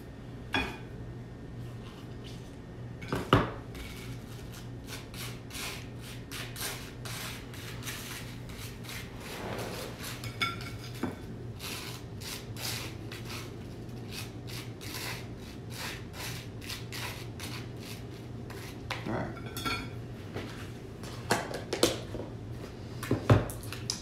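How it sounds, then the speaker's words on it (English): A knife spreads butter on slices of bread, giving soft, repeated scraping strokes close by, quiet overall with a few louder taps and clicks scattered through. "A little bit of butter on both halves of your bread."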